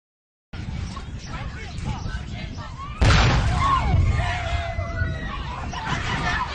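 A hydrogen-filled balloon explodes in a classroom demonstration, a sudden loud boom midway followed by reverberating rumble, with voices and crowd chatter around it.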